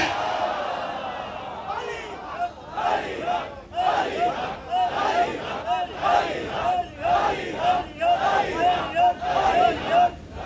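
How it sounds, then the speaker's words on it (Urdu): A man enthusiastically leads religious slogan chants at a Muharram majlis in an imambargah, with a crowd roaring back in loud, rhythmic, repeated bursts throughout. "یہ بہت جوش سے نعرے لگاتے ہیں"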